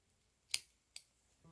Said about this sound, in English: I'm going to cut off the ends of that double knot